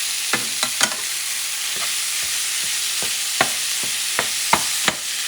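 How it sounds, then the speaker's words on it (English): Ground beef browns in a hot pan while a utensil stirs and breaks it up, giving a steady sizzle broken by a handful of sharp scraping and clinking knocks against the pan, close and with no talking. "I'm going to add the meat. And to break it out. Start mixing everything together."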